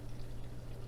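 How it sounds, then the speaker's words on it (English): Beer poured into a cooking roux for mac and cheese, a brief, soft splashing pour heard up close. "So we're going to just hit it with some beer."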